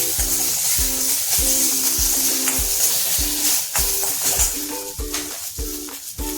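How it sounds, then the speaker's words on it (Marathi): Finely chopped tomatoes sautéing in a little oil for misal hiss close by, punctuated by regular spatula strokes against the pan roughly every half second, over a steady musical backing. "जोपर्यंत आपला टोमॅटो मऊसूद असा होत नाही तोपर्यंत टोमॅटो परतून घ्यायचा आहे."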